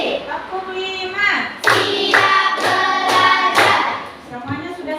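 Pupils in a classroom clap together in a counted ice-breaking clapping game, several sharp group claps in quick succession, loud and near, with children's voices murmuring around them.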